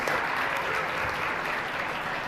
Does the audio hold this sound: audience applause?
yes